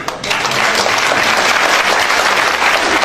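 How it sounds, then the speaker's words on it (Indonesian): Loud, dense audience applause at a live Indonesian comedy show, a sustained close roar of clapping from start to finish with little else. "coba tepuk tangan."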